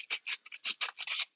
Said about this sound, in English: Just gently sanding the bottoms before I wax them.